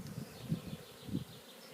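Bees swarm around a new hive in a farmyard, a soft low buzzing that swells in brief pulses and is faint and close, with no voices over it.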